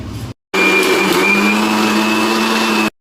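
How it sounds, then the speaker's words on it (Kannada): Loud, steady whine of a mixer grinder grinding biryani masala ingredients, running for a couple of seconds after a brief pause, close and continuous. "ಇದಿಷ್ಟನ್ನು ಮಿಕ್ಸಿಲಿ ಹಾಕೊಂಡು ರುಬ್ಕೊಬೇಕು"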